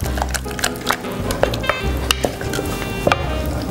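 Cooked shrimp in a thickened sauce heat through in a pan with a steady sizzle and bubbling, plus intermittent clinks and scrapes of a utensil against the pan.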